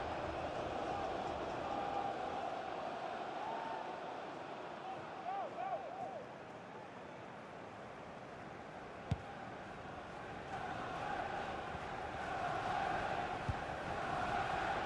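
A stadium crowd in the FIFA 21 soccer video game, with Liverpool in the match, keeps up a steady, wide roar that swells slightly toward the end, with faint voices underneath.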